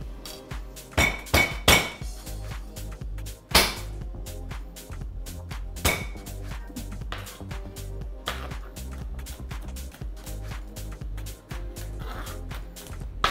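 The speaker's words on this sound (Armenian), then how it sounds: "Կարող ենք շատ արագ սխտորները ճզմել" Garlic cloves crushed by hand in a kitchen, a series of sharp, close knocks and thuds, some clustered and some spaced apart, with quieter tapping in between.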